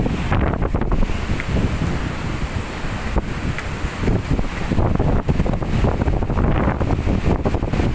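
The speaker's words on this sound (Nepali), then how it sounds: "हावा चलिरहेको" Strong wind buffets and roars across a bridge high over the Kali Gandaki river gorge between the Annapurna and Dhaulagiri ranges, a loud continuous rushing gust with no voices.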